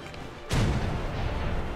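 A naval deck gun fires once in War Thunder's ship mode, a sudden loud, heavy boom whose low rumble and rolling reverberation linger after the blast.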